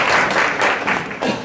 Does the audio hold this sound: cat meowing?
no